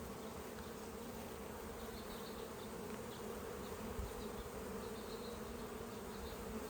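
Honey bees swarm around an open hive as a beekeeper splits one colony into two, producing a dense, steady, continuous buzz at low to moderate volume throughout.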